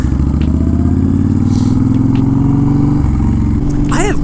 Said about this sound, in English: I don't know what this bike sounds like without that tapping.